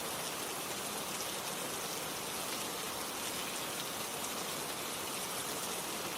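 Steady, even rain falls without pause, a dense hiss that stays constant in loudness throughout, with no voices or other sounds on top.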